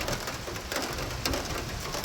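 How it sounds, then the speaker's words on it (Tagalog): Rain pours onto a house with a leaking roof, water dripping through inside onto a bed; a steady, dense hiss of falling water continues throughout with no voices. "Oh, ang iyang balay karon gaulan man, so inaani na gyud ang tulo."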